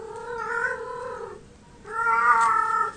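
A cat meows loudly twice, each call long and drawn out with a wailing, caterwauling quality, close to the listener with a short pause between the two calls, and no talking.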